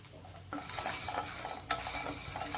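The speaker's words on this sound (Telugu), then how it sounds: "ఇది కాకరకాయ కూడా, ఇది కూడా తిప్పుతూనే ఉండాలండి" Bitter gourd and chana dal frying in a pan as a spoon stirs and scrapes, giving soft clinks and scraping strokes over a steady quiet sizzle, close and moderately loud.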